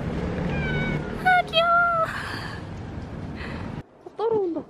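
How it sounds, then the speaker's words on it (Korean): A cat meows on a street several times, with short tonal calls that rise and fall, the last one standing alone. Someone speaks over the first part. "고양이 진짜 많아."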